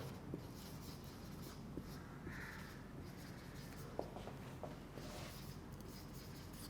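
Chalk or marker scratches across a board during a biology lecture, faint soft strokes and a few light taps, low beneath steady room hiss.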